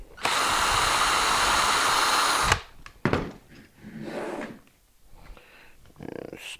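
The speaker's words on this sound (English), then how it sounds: "Just need to drill a pilot hole." Handheld power drill boring a pilot hole in a woodshop, a loud steady whir lasting a couple of seconds, then stopping, followed by knocks and handling sounds.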